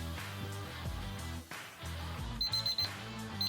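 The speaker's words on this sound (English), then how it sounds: "you can hear our thermometers going off" Several ThermoWorks meat thermometers beep at once while filet mignon grills on a Yoder YS640 smoker, giving quick high-pitched beep runs under loud music.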